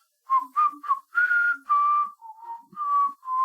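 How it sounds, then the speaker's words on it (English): A clear, close whistled melody in a video game, short and held notes with brief pauses between phrases, alone against silence. "I'm just keeping that melody going, whistling."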